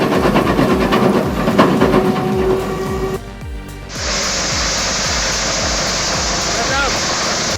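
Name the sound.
Petzolato PTH 300XL wood chipper chipping oak logs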